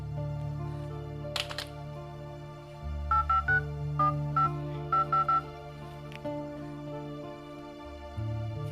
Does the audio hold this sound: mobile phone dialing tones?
yes